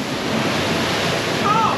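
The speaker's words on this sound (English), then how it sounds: "as we were coming out, this massive wave came in" A big ocean wave surges and splashes inside sea caves at Oualidia, a continuous loud wash of crashing water filling the whole moment with no voices.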